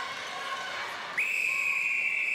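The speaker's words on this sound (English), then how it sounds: "There's the whistle." An umpire's whistle sounds at three-quarter time in a Commonwealth Games netball match between Australia and Malawi, one sharp sustained shrill blast cutting in midway over a soft arena murmur and holding to the end.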